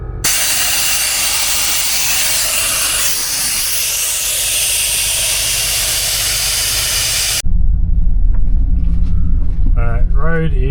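A car towing a caravan crawls along a very bumpy road on tyres let down to about 15–20 psi. Steady, loud road roar and rumble fill the cabin, then shift to a deeper drone, with a voice briefly heard near the end.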